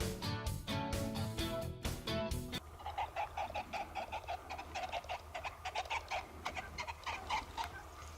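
A pheasant squawks loudly in harsh, repeated calls as it takes off and flies away on a country ride, the cries continuing in an uneven series after a burst of louder noise at the start.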